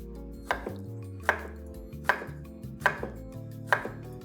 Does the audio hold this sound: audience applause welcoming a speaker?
no